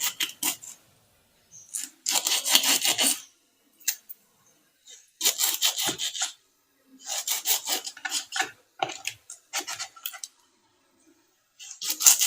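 A knife scoring slits into whole fish for Chettinad fish fry, giving repeated close rasping scrapes in short bursts separated by brief silences, with no voices.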